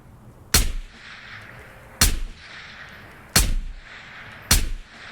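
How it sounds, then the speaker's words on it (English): Four sharp, loud gunshots crack one at a time at roughly one-second intervals during a firefight in the Ghosts of Tabor VR shooter, each followed by a short echoing tail, with no talk over them. "I think he shot at us once just then. We shot at him a little bit too."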